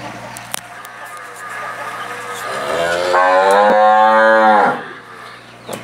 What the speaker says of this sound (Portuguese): É, a vaca de 30 litros de leite.